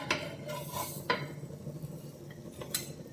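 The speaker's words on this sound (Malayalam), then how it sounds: "നമുക്ക് ഇത് കോരിയെടുക്കാം." Breakfast food being scooped out of a cooking pan, with a few sharp metallic scrapes and clinks of a utensil against the pan amid soft kitchen clatter.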